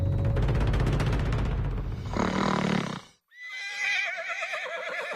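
A man imitates a horse with a loud, close whinny, starting with a rough, breathy stretch and breaking into a wavering, quavering neigh after a brief pause.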